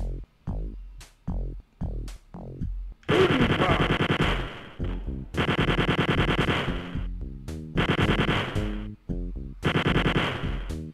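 Chain gun firing in the 1992 video game Wolfenstein 3D, Nocturnal Missions, sharp single shots at first, then long rapid bursts of loud rattling fire separated by short pauses.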